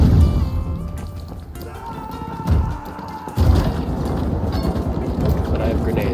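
A push explosion knocks over a building in the Skibidi Toilet FPS video game, a heavy crash and rumbling collapse with low booming thuds midway, under loud, continuous gameplay noise and players talking.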